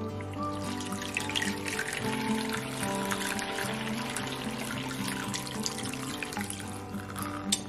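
Water pours and splashes steadily over a sealed Sea to Summit waterproof TPU accessory case, a continuous trickling wash close by with no talk.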